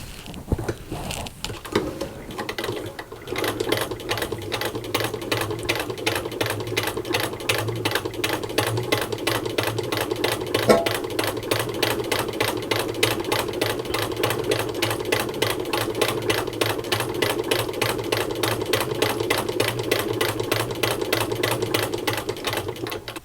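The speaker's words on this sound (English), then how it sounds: "I'm going to go ahead and sew for you so you can hear how lovely this machine sounds." A 1923 Singer 15K sewing machine stitches at a fast, even rhythm, a steady close clatter running nearly the whole time after a brief start, with no voices.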